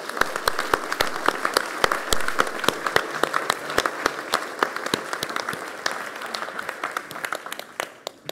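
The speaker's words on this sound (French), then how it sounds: "on peut les applaudir." An audience applauds firefighters with dense, steady clapping at a civic gathering; the applause holds for several seconds, then thins and fades toward the end.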